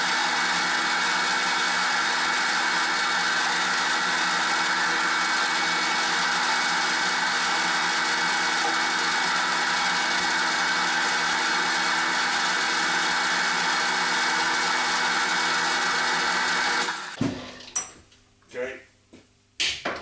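A metal lathe runs in slow gear to circulate its oil, giving a steady whirring mechanical hum with gear whine that continues evenly before stopping abruptly near the end, followed by brief clunks.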